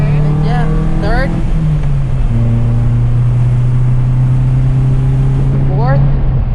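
A manual car styled as an Evo accelerates through third gear, its engine hum holding steady and then dipping slightly as the pitch shifts, with brief speech and voice sounds over the top.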